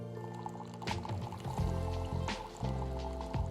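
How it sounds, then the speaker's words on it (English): Hot water pours from the tap of a Breville Barista Sense VCF187 espresso machine into a cup on the drip tray, a close, continuous trickling fill with a faint mechanical hum underneath and no talking. "Simply place the cup on the drip tray under the hot water tap and turn the dial to the"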